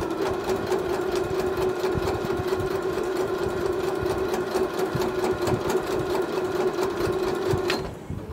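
A Janome 1030 MX sewing machine with a straight quilting foot stitches fabric for a hanger pocket project, running as a steady, loud, continuous mechanical whir with a fast even rhythm that stops abruptly near the end.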